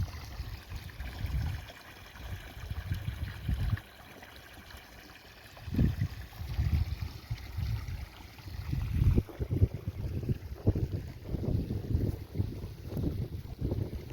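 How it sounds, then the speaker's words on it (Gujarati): Water trickles and gurgles slowly through a channel clogged with algae, with low rumbling wind buffeting the microphone in uneven gusts throughout. "પાણી ધીમું ધીમું જ આવે"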